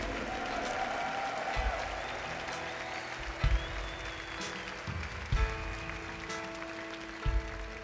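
A church congregation claps and cheers joyfully during a Sunday morning service, a steady wash of applause over sustained music, with rhythmic low thumps recurring every couple of seconds.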